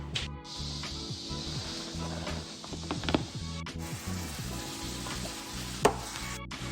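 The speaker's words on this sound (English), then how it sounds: "Now these are nice and chopped, ready to be put in some oil with our meat." Chopped vegetables and beef fry in hot oil for lasagna, a continuous crackling sizzle with occasional stirring clicks, close and moderately quiet, with no voices.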